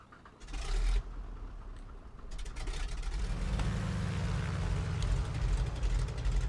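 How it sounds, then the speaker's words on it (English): A De Havilland DHC-2 Beaver floatplane engine starts up in Flight Simulator, a brief whir and cough giving way to a steady, loud low drone that holds to the end. "Let's start up the engine."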